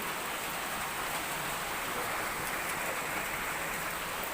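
Heavy rain pours down steadily, a dense, even hiss of falling water that holds at a constant level with no pauses.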